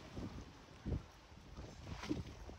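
Gusty wind buffeting the microphone in low rumbling bursts, with a steady outdoor hiss underneath, in San Esteban, Ilocos Sur, Philippines.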